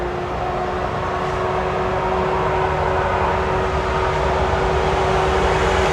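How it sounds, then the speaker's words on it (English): A train passing by in New York City, a steady loud rumble with a sustained tonal hum running through the whole stretch, no voices. "I'm gonna let this train pass."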